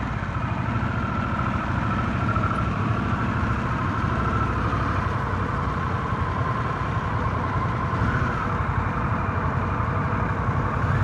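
A 2023 Harley-Davidson Sportster S motorcycle engine drones steadily while riding, a continuous low rumble mixed with wind noise, loud and unbroken for the whole stretch.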